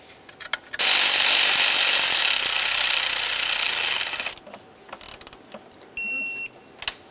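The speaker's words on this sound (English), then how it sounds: "we're going to torque each of these to 80 inch-pounds" Power tool tightening the EGR tube mounting bolts on a 2006-10 Ford Explorer, a loud steady whir lasting about three seconds, then quiet clicks and a brief second burst near the end.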